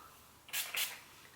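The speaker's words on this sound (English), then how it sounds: "I'd spray a little bit more of this coconut milk hair mist" Two short hissing bursts of coconut milk hair mist from a spray bottle, close and fairly soft, the second following right after the first in a quiet room.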